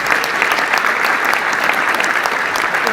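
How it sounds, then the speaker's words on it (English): An audience at a live drum event claps for drummer Andrew Hewitt, a dense, loud burst of applause that holds evenly throughout, with no voices over it. "How about a round of applause for Andrew Hewitt?"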